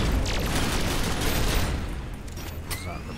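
Gunfire in the video game Synthetic: Legion Rising, a dense, loud burst of rapid shots and booms filling the moment, with a voice faintly underneath.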